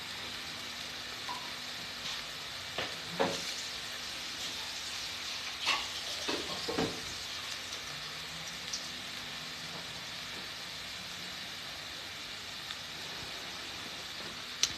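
Bacon and red onion frying together in a pan, a soft continuous sizzle with a few scattered pops and utensil clinks early on, fairly quiet and close.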